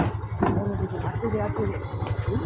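A boat's engine chugs steadily at close range, a low rumbling drone with people talking over it.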